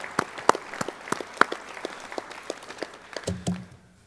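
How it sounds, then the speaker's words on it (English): At a high school hall of fame induction ceremony, a small audience gives sparse, scattered claps, individual hand claps standing out before the applause trails off. "So I'd like to give those a round of applause,"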